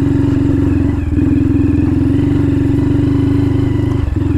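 A Honda Grom motorcycle with an FMF race pipe idles and chugs steadily in first gear off road at low speed, a loud continuous throbbing rumble with a brief dip partway through.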